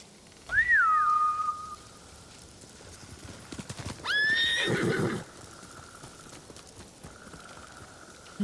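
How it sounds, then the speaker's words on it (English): Samurai horses in the game Ghost of Tsushima let out two loud, close neighs a few seconds apart, each followed by a drumming clatter of hooves that fades, with a faint whistle-like tone lingering afterward. "Bastards scared off the horses."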